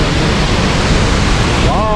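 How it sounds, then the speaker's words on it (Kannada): Dray Nur waterfall in Dak Lak, Vietnam, gives off a loud, steady roar of rushing water that fills the whole stretch without a break. "ನಾವೀಗ ಎಲ್ಲಿದ್ದೀವಿ ಅಂತಂದರೆ ಒಂದು ಫಾಲ್ಸಲ್ಲಿ ಇದ್ದೀವಿ"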